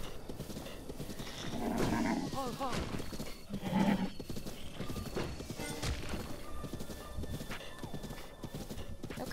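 A horse in The Legend of Zelda: Breath of the Wild whinnies and its hooves clip-clop steadily, with loud neighs over continuous game sound while a person talks and exclaims throughout.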